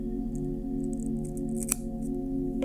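A small wooden stick being cut to size, a short snip or crunch standing out against a steady low hum, with faint light handling noises around it.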